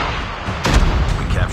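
A grenade bursts in Call of Duty Mobile, a sudden loud boom cutting in partway through over a busy background of game noise.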